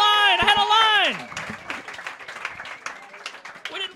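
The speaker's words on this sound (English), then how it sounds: "Clap it up for Jasmine." Comedy roast battle audience breaks into applause and cheering for the winner, starting with a sustained tonal shout or whoop, then scattered clapping continuing at moderate volume.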